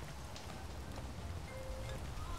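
Steady rain falls in the video game Space Engineers, a soft continuous hiss with faint patter throughout, fairly quiet and with no voices over it.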